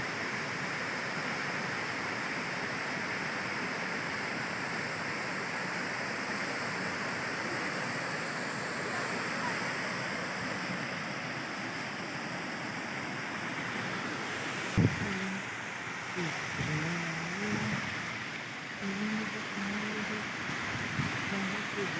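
Water rushing over Balidiha Dam as a steady, continuous roar mixed with wind buffeting the microphone, with a voice talking over it in the latter part.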